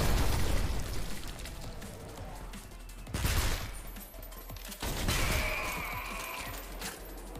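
Gunfire and explosions in the video game Deus Ex: Human Revolution, with loud bursts of shots and blasts near the start and again around the middle, fading between them, with no talk.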